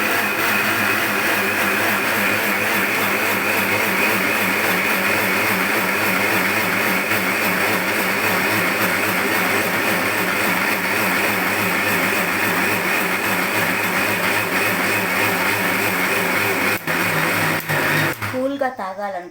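A blender runs steadily mixing a milkshake, a loud continuous whirring motor drone with a pulsing rhythm that holds for most of the stretch before cutting off near the end.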